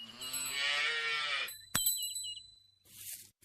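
A cartoon calf gives one long, loud moo with a rich harmonic tone, which breaks off into a short sharp hit and a brief bright ring, then a quieter rustle follows.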